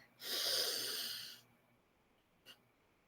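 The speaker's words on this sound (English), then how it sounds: "when you breathe out, you're going to take short, quick breaths" One long forceful exhale through the nose during a breathing exercise, followed by a much shorter, fainter puff of breath, close and without talk.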